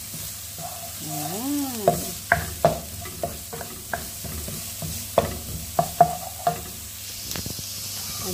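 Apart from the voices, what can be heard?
onion frying and being stirred in a pan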